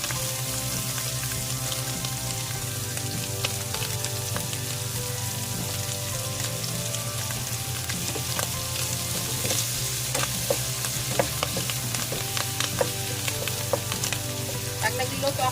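Onions frying in a pan for a beef or pork giniling ground meat dish, a constant close crackling sizzle with scattered pops throughout.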